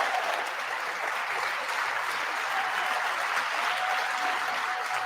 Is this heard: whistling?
no